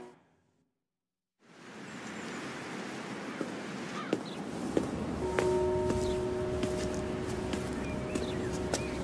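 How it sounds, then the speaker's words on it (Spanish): Church bells ring in the distance on a quiet morning in Sugarcreek, with sustained tolling tones and a few clear strikes over a soft ambient background. "¿Qué es eso? Las campanas de la iglesia."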